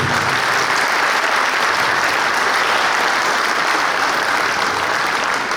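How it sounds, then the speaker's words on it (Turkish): Loud, dense audience applause at a formal Turkey–Iran event, a steady roar of many hands clapping together for several seconds with no speech on top. "bir alkış rica ediyorum"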